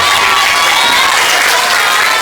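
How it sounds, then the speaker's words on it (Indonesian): Loud, dense clapping and cheering from a crowd of schoolchildren at a training session at an Islamic middle school in Bekasi, a continuous roar of hands and shouts filling the room. "Tepuk tangan."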